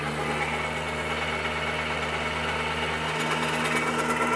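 A John Deere 1025R compact tractor's engine runs steadily, driving a PTO generator with the throttle raised, giving a continuous close, loud hum with a slight lift in pitch near the end; no one speaks.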